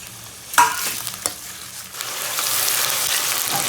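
Onions frying in a pan for gongura chicken, a steady sizzle that swells louder and brighter midway, with a few sharp stirring clatters near the start.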